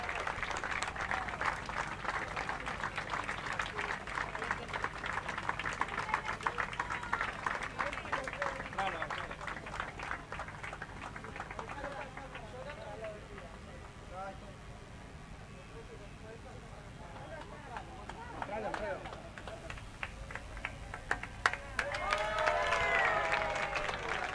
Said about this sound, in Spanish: fuerte el aplauso para Alfredo, un compañero de las madres.